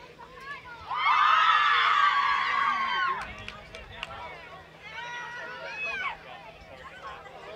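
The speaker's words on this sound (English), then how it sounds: "A lot of cheering as we see." A crowd at a girls' high school lacrosse game cheers and screams as the final whistle sounds, a loud burst lasting about two seconds. Quieter chatter follows, and a voice speaks near the end.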